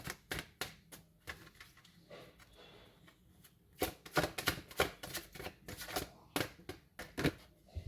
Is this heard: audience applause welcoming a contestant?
no